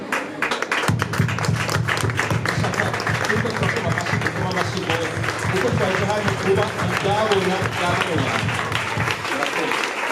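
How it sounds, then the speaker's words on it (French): Guests applaud at a wedding ceremony, sustained dense clapping from a nearby crowd, with voices and cheering mixed in across the whole stretch. "tumuha amashyi"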